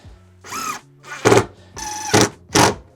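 Cordless power drill driving fasteners into a floor joist: four short bursts of whining motor, each ending in a louder grinding strain as the screw seats, separated by brief pauses.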